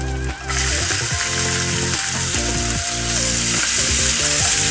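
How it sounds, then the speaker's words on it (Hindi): Onion dropped into hot oil with ajwain and asafoetida, a sudden loud sizzle that bursts in and holds as a dense continuous crackle, close up, with soft background music and no talking. "अब इसमें डालते हैं प्याज"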